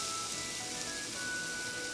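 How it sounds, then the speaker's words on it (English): Sliced bacon sizzling in a frying pan preheated to medium-high on a burner, a steady close crackling hiss throughout with no voices. "Once you have your bacon sliced, you will add it to a frying pan that has been preheated on a burner to about"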